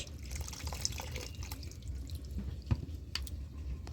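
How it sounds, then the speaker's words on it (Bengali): A small amount of water is poured into mashed dal while cooking bhindi aam dal, a soft steady trickle with faint splashes and one brief clatter, close by and without talk. "এইবার আমি একটু অল্প করে জল দিয়ে দিচ্ছি।"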